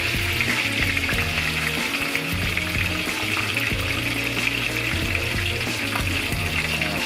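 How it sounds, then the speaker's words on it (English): Pork chops sear in hot oil in a pan, a loud continuous crackling sizzle held close throughout, with low rumbling handling of the meat underneath and no speech. "I'm just pulling the meat under the oil so everything sears in"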